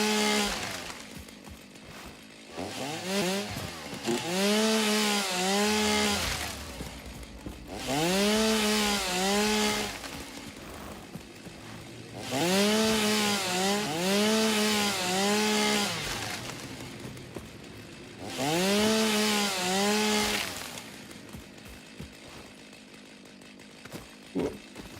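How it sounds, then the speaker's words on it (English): A chainsaw cuts wood during outdoor gardening work, its engine revving hard in four long bursts of several seconds each, dropping back to a rough idle between cuts. "give me the chainsaw, give me the chainsaw"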